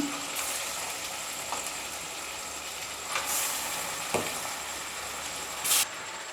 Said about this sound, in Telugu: ఇప్పుడైతే చికెన్ వేసుకున్నాం కదా కలుపుకుందాం ఒకసారి